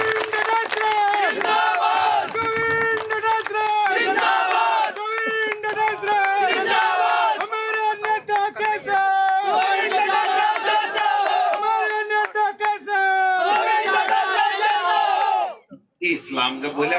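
A crowd at a foundation-stone ceremony in Ghirniya Bada shouts a loud slogan for Govind Singh Dotasra, voices chanting in unison over an amplified speaker, sustained and dense for most of the stretch before cutting off abruptly.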